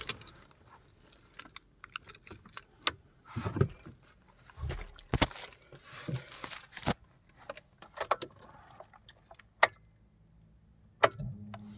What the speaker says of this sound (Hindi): इसको चाबी लगा के देखते हैं